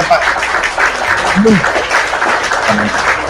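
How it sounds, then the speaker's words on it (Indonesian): Brief applause for a guest on a studio debate show, scattered clapping mixed with voices and background chatter. "Tepuk tangan buat Gufron dulu."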